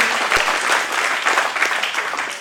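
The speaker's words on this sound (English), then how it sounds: "certainly a round of applause for all the participants of the coding event" A crowd claps steadily in applause at a prize-distribution ceremony of the Nasscom Tech Conclave 2015, loud and close.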